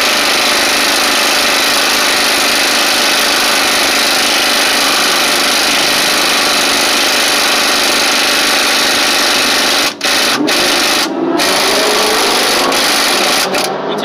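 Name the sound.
low profile impact wrench pulling balancer off Chevy 305 crankshaft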